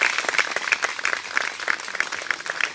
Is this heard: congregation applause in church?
yes